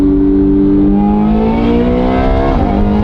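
Ferrari engine with a single-clutch gearbox revving hard and accelerating, a loud continuous rising tone close by, with a brief dip near the end as it shifts and climbs again.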